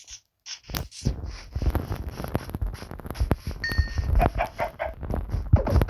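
A chicken clucks in Minecraft, repeated short clucks over a busy, clattery game soundscape with small bursts and thumps.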